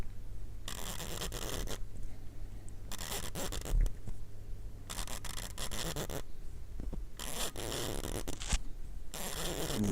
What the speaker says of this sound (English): the actual winding of the actual crown and the feel of it is so inelegant